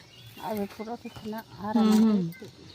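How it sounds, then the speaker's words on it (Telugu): A cow lets out a loud, drawn-out moo after a few shorter lowing calls, close by and clear. "ఆవులు వచ్చేస్తున్నాయా?"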